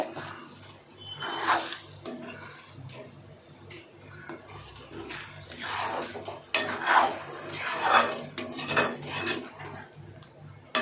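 Egg is stirred in a pan for egg rice: a utensil scrapes and clinks against the pan in uneven strokes over a faint, steady sizzle, heard close up.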